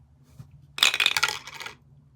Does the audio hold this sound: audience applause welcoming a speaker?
no